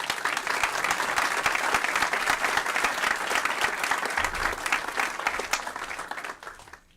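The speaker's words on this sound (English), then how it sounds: "Let's give him a round of applause." A city council chamber audience applauds Fire Chief Jim Bickford with steady, full clapping that holds evenly for about six seconds and then tapers off.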